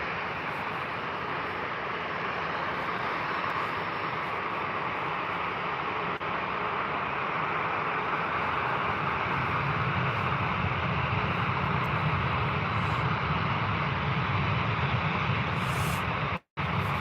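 An Embraer jet departs Birmingham Airport on a cold day. Its steady, broad engine roar fills the whole stretch and deepens into a heavier low rumble partway through, with no talking.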